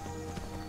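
Steady clip-clop of horse hooves at a trotting pace in the video game Skyrim, under a faint musical hum, fairly quiet and even.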